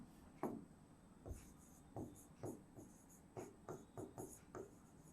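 Chalk or marker strokes on a classroom board come as a series of short, separate scratches in an uneven rhythm, close and faint, about a dozen strokes over a few seconds.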